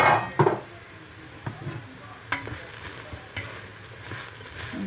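Vegetables frying in a hot pot for a herb-rich spaghetti sauce, with a steady sizzling hiss and occasional sharp clanks of a utensil stirring against the pot.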